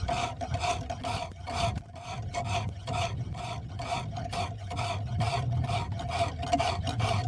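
Steady, rhythmic rasping strokes of a blade drawn across a hone on a GATCO Edgemate clamp-guided knife sharpening system, each pass repeating about every half second, close and continuous with no talk.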